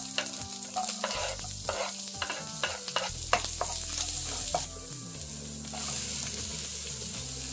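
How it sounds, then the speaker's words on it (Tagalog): Garlic and onion sautéing in a pan, with a steady close sizzle broken by repeated scraping and clattering stirring strokes, with no talk. "Saute na natin itong garlic and onion"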